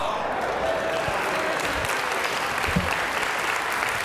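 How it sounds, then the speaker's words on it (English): A studio audience at a science demonstration claps in sustained applause, a dense, even patter of many hands held at a constant level for several seconds, with faint voices mixed in. "Have you ever gotten applause for having a candle blow out?"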